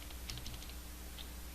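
A computer keyboard is tapped a few times in quick succession to enter values, with a short pause before one last keystroke, such as the Enter key, all faint and close in a quiet room.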